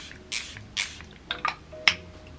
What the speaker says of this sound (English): This is where I like to spray my face again.